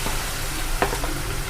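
Garlic paste hits hot oil in a pan with dried red chilli and cumin, sizzling steadily and loudly with a brief clatter of stirring midway.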